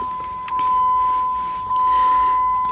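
A 2003 Jeep Liberty Sport 2.4 sounds a steady electronic tone when the key is switched on, a continuous single-pitch chime lasting several seconds with faint clicks around it, heard alone at close range.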